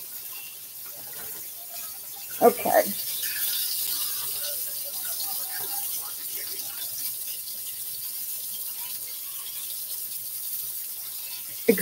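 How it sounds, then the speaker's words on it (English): Hands are washed in a kitchen sink using a bucket of sanitized water, with running water and splashing throughout, a couple of louder clanks, and a brief spoken word. "I'm going to wash my hands."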